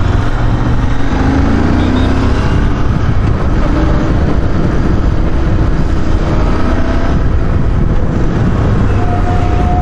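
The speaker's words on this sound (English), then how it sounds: "That blipping of the throttle, that was the right amount." A Royal Enfield Interceptor 650 motorcycle rides in Indian traffic, its engine droning loudly and steadily with slight pitch shifts as it downshifts, under heavy wind rush.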